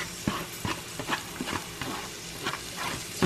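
Onions hit a skillet of hot bacon grease and butter, giving a lively sizzle with repeated stirring scrapes and small bursts of crackle across a few seconds.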